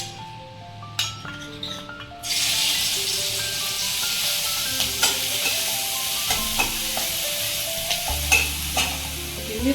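Loud frying sizzle bursts in as ground chili paste hits hot ghee and keeps crackling steadily, with occasional metal clinks of a spoon stirring in the pan.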